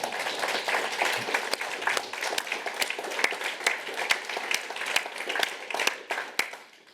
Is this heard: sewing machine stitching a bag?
no